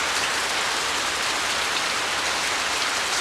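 Heavy rain pours down in a steady, dense hiss of drops hitting surfaces. It is loud and constant throughout with no voices.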